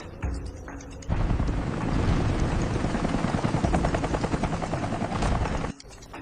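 A helicopter arriving over farmland, its loud rotor chop and turbine roar building suddenly and holding steady close by before cutting off abruptly.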